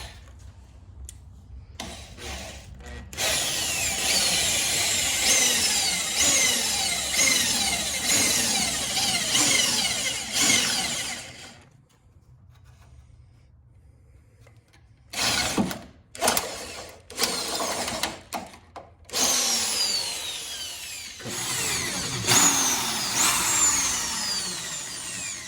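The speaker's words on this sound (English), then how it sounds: "Now I'm gonna start with the drill." A power drill whirs loudly in several long bursts, drilling holes on a Jeep Wrangler YJ for a reverse light, stopping and starting with short gaps of near silence between runs.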